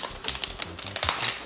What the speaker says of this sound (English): So I got some more wrapping to unwrap here.